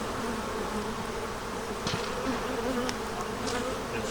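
Honeybees buzz around a hive outdoors in spring, a dense, continuous droning hum from many insects close by, with no talking.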